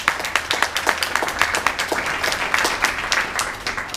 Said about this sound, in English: give a great big round of applause, Brad Bebee, CEO of SYSTAP